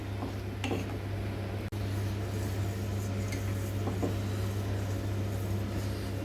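A spoon stirs boiling milk in a pan for rasagulla, giving soft scraping and light metallic clinks at irregular intervals over a steady low hum from the stove.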